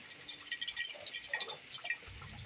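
Milk poured into semolina in a pot, a faint, quiet liquid trickle with small drip-like splashes, heard alone.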